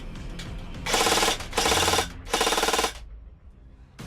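An airsoft assault rifle on an 11.1 V LiPo battery fires three fast full-auto bursts, each under a second long with short pauses between, loud and close with no talking.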